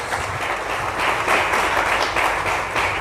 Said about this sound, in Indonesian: Kasih tepuk tangan yang meriah bagi Tuhan ini.